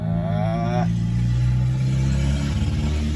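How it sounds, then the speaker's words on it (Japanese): A Volkswagen car engine drones and revs loudly up close, its low rumble shifting in pitch, with a voice briefly heard at the start. "うるさいボーズワーゲンね"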